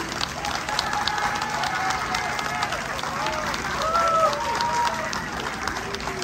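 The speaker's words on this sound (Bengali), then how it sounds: "একটা জোরে হাততালি।" An audience claps for a children's musical play, steady applause from a crowd that continues without a break, with some murmured voices mixed in.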